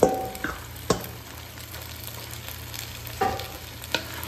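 Bottle gourd (upo) slices frying in a home kitchen pan with sardines, a steady low sizzle under occasional sharp clacks and scrapes of a utensil stirring, fairly quiet and with no talking.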